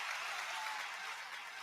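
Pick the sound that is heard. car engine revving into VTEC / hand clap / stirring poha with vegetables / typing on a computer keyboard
hand clap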